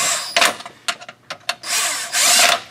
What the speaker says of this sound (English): We'll just snug them up with the impact just so they're ready to be torqued.